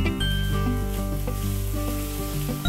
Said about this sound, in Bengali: আদা বাটা দিয়ে ভালো করে আদা কষিয়ে নেব